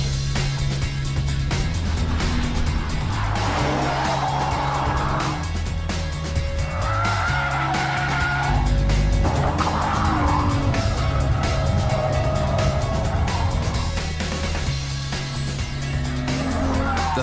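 A Nissan 350Z is driven hard around a test track lap, its engine note rising and falling through repeated gear changes with bursts of tire squeal in the corners, loud and continuous without talk.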